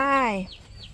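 An egg-laying hen gives a short drawn-out cluck that falls in pitch, followed by a couple of faint chirpy sounds in a quiet farmyard.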